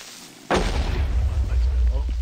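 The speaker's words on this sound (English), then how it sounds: "I heard an explosion." A creeper explosion in the Minecraft video game hits suddenly after a quiet moment, a loud close boom that settles into a lingering rumble.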